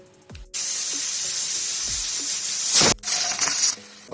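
A pressure cooker cooking Andhra-style palak pappu lets out a loud, sustained steam whistle that hisses for over two seconds, cuts off abruptly, then bursts into a second, shorter whistle close by.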